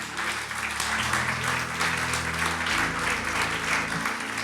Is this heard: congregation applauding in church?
yes